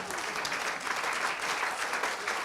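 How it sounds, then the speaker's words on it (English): Audience at a breakfast briefing giving a speaker a round of applause, dense and steady clapping throughout at a moderate level with no voices. "Harriet, big round of applause."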